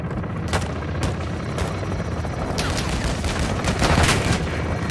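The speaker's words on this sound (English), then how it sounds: "Taking belt-fed fire from beneath the tower." Belt-fed machine gun fire in the Call of Duty: Modern Warfare II campaign comes as several sharp bursts and single cracks over a constant helicopter-like rotor drone, growing louder and denser toward the end.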